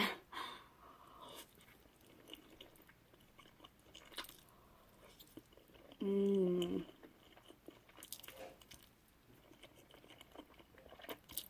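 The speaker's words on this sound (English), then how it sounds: "I love eating the spicy ramen noodles with cheese and also with milk." Someone eats spicy Korean cheesy ramen noodles up close, with quiet, soft chewing and biting and a brief tonal squeak midway.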